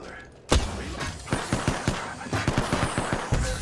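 Rapid gunfire in the video game Apex Legends, a sudden loud burst followed by repeated sharp shots in uneven rhythm with thuds, close and dominant, a voice faintly underneath.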